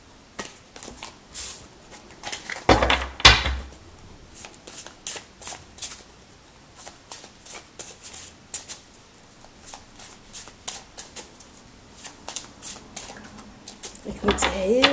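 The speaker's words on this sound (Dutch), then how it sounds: "Ik moet heel voorzichtig deze kaarten schudden. Ze zijn super groot. Super glad." Large, very smooth cards are shuffled carefully. Repeated soft riffles and slides come up close, with heavier bursts of handling near the start and the end.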